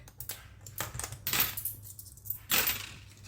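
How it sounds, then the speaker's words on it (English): Coins are dropped and handled during cash envelope budgeting, with several sharp metallic clinks and jingles in quick bursts, close and fairly quiet, with pauses between. "we'll take out 2 5s and a 10, and we'll replace it with these coins"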